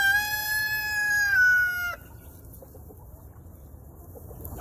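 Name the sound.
rooster crowing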